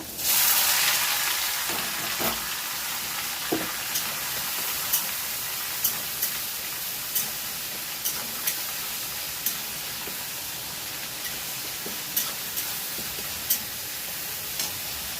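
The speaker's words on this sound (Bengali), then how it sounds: "এদিকে তেলটা গরম হয়ে গেছে, উচ্ছে আলু তুলে দেব" Bitter gourd and potatoes frying in hot oil, a steady close sizzle throughout with regular small pops and crackles spaced about every second.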